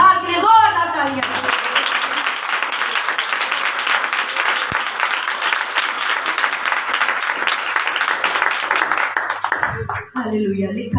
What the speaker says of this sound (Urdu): خدا کے جلال کے لیے زوردار تالیاں۔